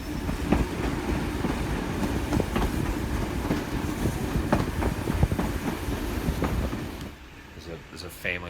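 Inside a carriage pulled by a steam train, a steady rumble of wheels on rails carries irregular clicks and knocks, with faint voices mixed in. The noise eases off near the end.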